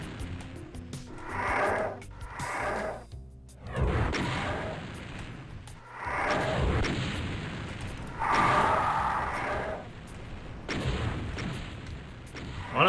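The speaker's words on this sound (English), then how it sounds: "they now always fire homing missiles" Revenant homing missiles exploding in Doom, with a series of booming blasts and rumbling bursts arriving in several waves, moderately loud with short gaps between impacts.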